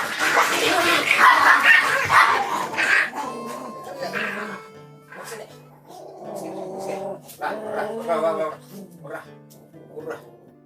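A small dog barks and yips in repeated, excited bursts at a bigger dog, close by, partly under a voice talking over the first few seconds.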